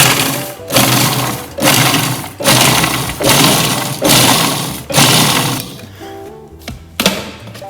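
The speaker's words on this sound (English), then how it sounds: "You're just going to go pulse, pulse, pulse until you get the texture that you're looking for." A food processor pulsing herbs for falafel runs in six loud, whirring bursts of about half a second each with short gaps between them, then quieter clunks and rattles follow at the end.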